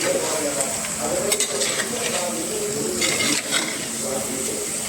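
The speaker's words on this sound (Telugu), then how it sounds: "ఇలా నీట్గా ప్రతి ముక్కకు గ్రేవీ పట్టేటట్టు కలుపుకోవాలి." Village-style fish curry gravy stirred in a pan so it coats each piece, with a loud, close wet sizzle and scraping mixing sounds continuing throughout, no voices.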